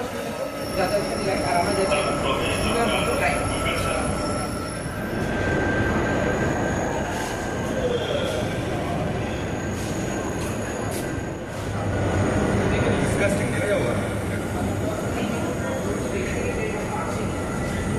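A Kolkata Green Line metro train heads toward the airport through Dum Dum Cantonment, a loud continuous rumble of carriages with high wheel squeals, while people talk over it.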